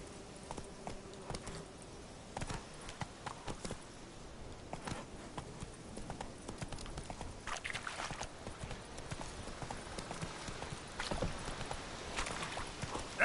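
The horse Roach's hooves clip-clop steadily at a walk in The Witcher 3, soft, fairly faint and even-paced over a low ambient background.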